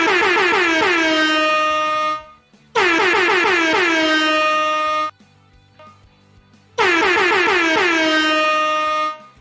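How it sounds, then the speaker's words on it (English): An air horn blares three times, each blast long and loud with a sliding tone, separated by short gaps of near silence. "I'll give air horn for him."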